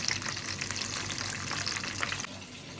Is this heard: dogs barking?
no